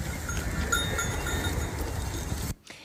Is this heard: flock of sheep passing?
yes